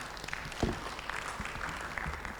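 Audience applause at a forum on senior citizens' rights, a steady patter of clapping from a seated crowd with one louder thump near the start, moderately loud and continuous.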